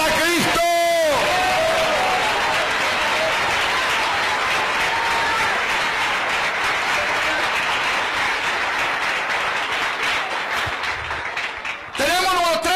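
A church congregation bursts into sustained applause at an evangelistic service, loud dense clapping with some cheering, bracketed by a preacher's amplified voice at the start and the end.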